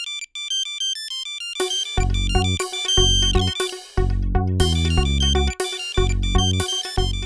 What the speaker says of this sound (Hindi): मिस्टर विटमन का फोन